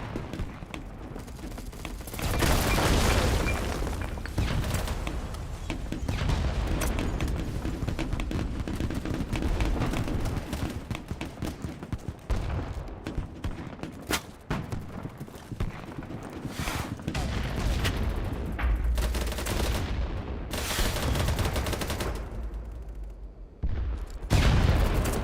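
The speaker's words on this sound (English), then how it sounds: "look how many bullets from this gun it takes to shoot him in the brain" A gun in a video game fires repeatedly in long, dense bursts of rapid shots with occasional booms, loud and sustained over many seconds with brief pauses near the end.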